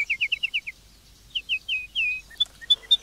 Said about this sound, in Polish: wartownik Jurgen Montag usłyszał głos słowika.